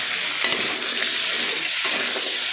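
Cauliflower stalks and radish frying in a pan for a Bengali chorchori, a continuous bright sizzle with soft scraping stir noises, close and fairly loud.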